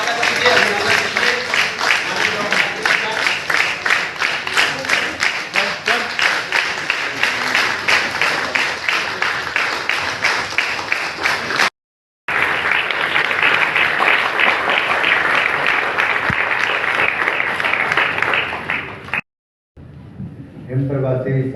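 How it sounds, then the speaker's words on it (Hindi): A crowd applauds at the inauguration of a newspaper, welcoming a political leader onstage; sustained, loud clapping runs long, broken by two brief gaps, with voices audible over it. "तालियां रुकनी नहीं चाहिए।"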